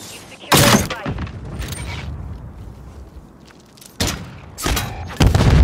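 Sharp bursts and booms from a grenade blast in a Search and Destroy video game round, several loud hits separated by a quieter stretch of game ambience.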